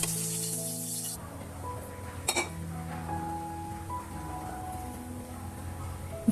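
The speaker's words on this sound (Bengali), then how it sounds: "আগে থেকে রোস্টের পিসগুলো মেখে রেখেছিলাম, এখন জাস্ট ভেজে নিচ্ছি।" Marinated roast pieces frying in a pan on a home stove, giving a steady hiss of sizzling oil with a few brief utensil clinks and a faint tonal hum in the background.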